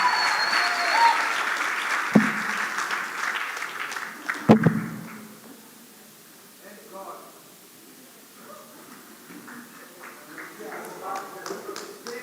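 An audience at a church gathering applauds loudly at first, with a couple of sharp claps standing out, then the clapping fades into scattered quieter claps and murmuring.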